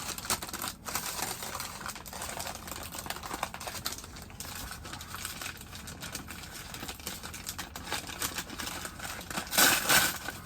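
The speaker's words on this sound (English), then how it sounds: "Can't tear a paper bag open." Paper bag crinkling and tearing open close by, a steady crackly rustle throughout with a louder rip near the end.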